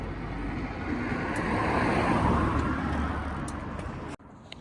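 Heavy road traffic rumbles and hisses steadily nearby, swelling as vehicles pass, then cuts off abruptly near the end.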